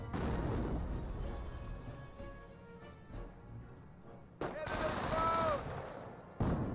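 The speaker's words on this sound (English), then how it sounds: "I did hear a detonation there." A Company of Heroes battle, with landmines and an armoured Greyhound car, plays out in bursts of machine-gun fire and sharp blasts, including a loud detonation partway through, under a commentator's voice.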